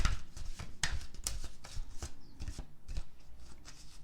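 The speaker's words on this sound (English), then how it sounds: "I saw this before, and I kept shuffling." Deck of cards being shuffled repeatedly, crisp riffling bursts and taps in an irregular rhythm, close and fairly loud, with no talking.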